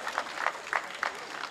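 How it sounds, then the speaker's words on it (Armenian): An audience at a community event claps in a loose, rhythmic pattern, a few distinct bright bursts spaced evenly over a brief moment, fairly faint and slightly distant. "Եկեք ծափահարենք նրանց։"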